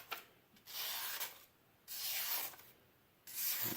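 A dull pocket knife slicing through material in three separate strokes, each a drawn-out rasping, scraping rub that is fairly close and clear, with short pauses between the cuts and no talking.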